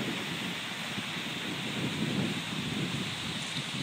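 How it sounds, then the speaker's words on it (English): Strong wind at a ski resort in Korea roars steadily into the microphone, a broad rushing noise that swells slightly midway, with no talking. "there's strong wind. But it sounds nice and it's windy."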